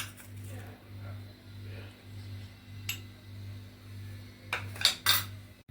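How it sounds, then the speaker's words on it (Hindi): Falooda is added to a glass dish in a home kitchen, giving light clinks and taps of glass and utensils, a quick cluster near the end over a steady low hum. "यहाँ पर अभी फालूदा को डाल रही हूँ मैं"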